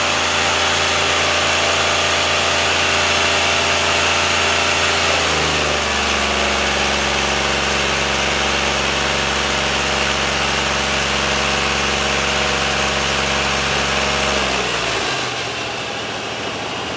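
A Ford 460 EFI V8 with a C6 automatic runs at a rough, uneven idle, a steady low rumble with a slight shift in pitch partway through before it drops off near the end, close and alone.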